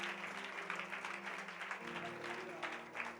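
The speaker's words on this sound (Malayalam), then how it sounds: "അവന് ക്ലാപ്പ് കൊടുത്താൽ അടിപൊളി ക്ലാപ്പ് കൊടുത്തു പോയിരുന്നാ മതി" Quiet, distant clapping from a congregation at a prayer meeting, a soft continuous patter beneath a sustained tonal drone and faint voices.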